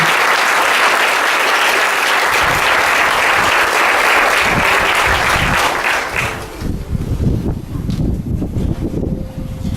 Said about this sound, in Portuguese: Vamos dar, gente, uma grande salva de palmas para a palavra do Senhor.